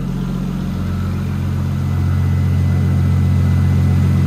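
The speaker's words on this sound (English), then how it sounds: "Listen to this thing idle. I'm gonna turn off the fans, but listen to this thing idle." A Nissan 240SX with a swapped RB25 engine idles smoothly and steadily, a close, even low rumble with a faint mechanical hum, holding constant for several seconds with no one talking.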